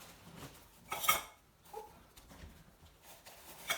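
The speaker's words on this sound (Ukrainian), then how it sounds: "Уже мій тут шумить посуд." Dishes and cutlery clatter softly in the background, with a sharper clink of plates near the start and light rattling throughout.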